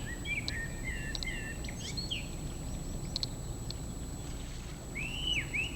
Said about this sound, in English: we've got some more black guillemots